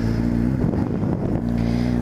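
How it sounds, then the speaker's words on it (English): A 2010 Honda CBR 600RR sport bike idling as it warms up, a steady, smooth engine hum held at an even level throughout, loud and close with no voices. "We're gonna warm up my bike here."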